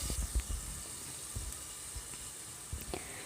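Chopped tomato sautés in a pan for mutton rasam with a soft, steady sizzle and hiss, broken by a few light thumps and stirring knocks, quiet and close.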